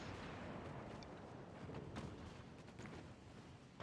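A torpedo strike in the naval warship game Ultimate Admiral Dreadnoughts, a deep, rumbling explosion heard from a distance, sustained and booming with a few sharper cracks scattered through it.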